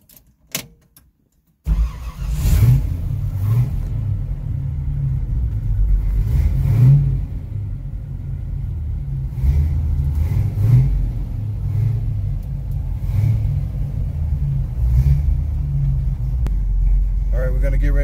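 A 1964 Chevy Nova hot rod engine cranks and catches after a short quiet moment, then settles into a loud rumbling idle with several deep revs. Voices talk at times over the engine.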